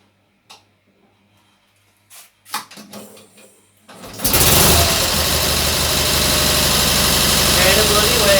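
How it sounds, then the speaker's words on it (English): A Cummins Onan military generator engine cranks with a few clicks and knocks, then bursts into life and settles into a loud, steady idle that drones to the end, with people talking beforehand. "Turn the choke on."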